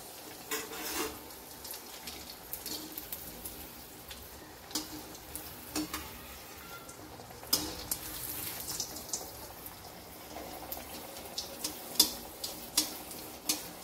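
Anarsa, sweet rice-flour rounds with a poppy-seed side, sizzle in hot oil over a low flame with faint, steady crackling and scattered small ticks and pops, close by and without speech.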